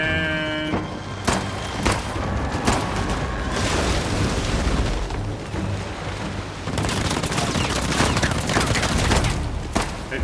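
Dense, loud gunfire from the video game Uncharted The Lost Legacy, rapid shots and booming blasts piling up almost without pause, with a brief lull midway before firing resumes.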